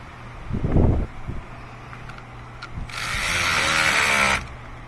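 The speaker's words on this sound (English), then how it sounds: "Let me get my ratchet and tighten it." A ratchet wrench tightening a bolt on a 2013 Hyundai Elantra's electric steering bushing clicks rapidly in a steady buzzing run for about a second and a half, close by, after a brief low thump.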